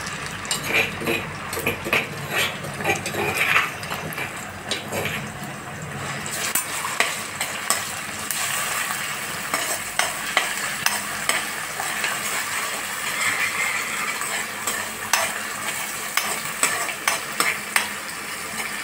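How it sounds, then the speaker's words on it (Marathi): Ginger garlic paste sizzles and fries in hot oil in a pan for chicken curry, a steady crackling hiss with occasional stirring scrapes and clinks throughout, no voices. "थोडं तेल टाकायचं आणि आपली हे अद्रक लसूणची पेस्ट टाकायची"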